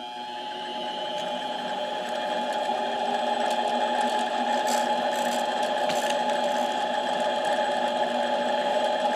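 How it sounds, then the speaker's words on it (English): A Harbor Freight mini lathe turns an 11 hp Briggs & Stratton camshaft at a slow, light cut, a steady whining motor hum with faint scraping, close and continuous. "A little lathe like this, I just take her slow. Job like this, I do about 2 thou cuts."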